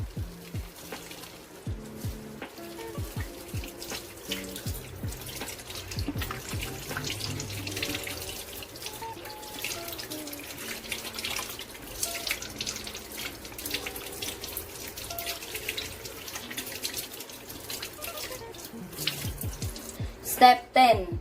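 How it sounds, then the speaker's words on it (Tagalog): Tap water runs into a sink while hands are rinsed, a steady close splashing stream with shifting gurgles as the hands move through it, and a voice speaks briefly over it. "Rinse hands with water."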